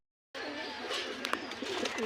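Female Giribaj and German Shield pigeons coo softly at a pigeon seller's, with low rolling calls and a few faint chirps over a steady background hum, no talk.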